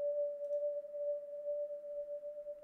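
A soft ambient synth lead, set low like a background string pad in a virtual/ambient beat, holds one steady, smooth tone for a few seconds with no other sounds.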